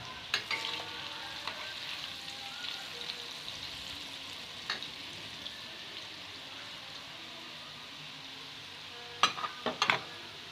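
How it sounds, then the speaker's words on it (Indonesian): Leftover mie ayam noodles deep-frying in hot oil until crispy give a steady, dense sizzle and crackle that fills the whole stretch, with a few sharp clinks of utensils against the pan near the end. "Langsung kita masukkan minyak ya teman-teman. Ini digoreng sampai benar-benar garing ya."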